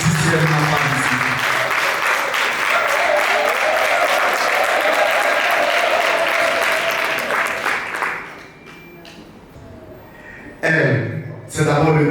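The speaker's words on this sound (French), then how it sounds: "nous allons donc également acclamer dans cette salle" Sustained applause from an audience in a conference hall at a book signing event in Yaoundé, dense steady clapping for about eight seconds, then fading, with a voice briefly speaking near the end.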